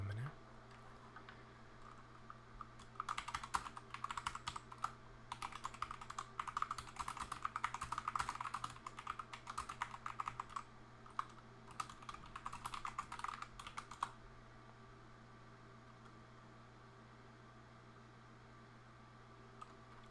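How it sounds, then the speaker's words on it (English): Fingers type on computer keyboard keys while coding in C#, a close, rapid clatter of clicks in uneven bursts lasting about twelve seconds before it stops, leaving faint steady room hum. "We're gonna get some tippy-tappy keys for a minute."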